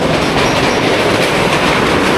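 Vehicle crossing a bridge built by the Indian Army in Sri Lanka, a loud continuous rumble with rattling, clattering metal-on-metal noise that stays steady and close throughout, with no talk.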